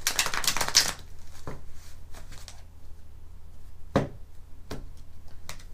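Tarot cards being shuffled by hand: a quick riffling flutter at the start, followed by scattered soft taps and slaps of cards settling, fairly close and quiet, with no talking.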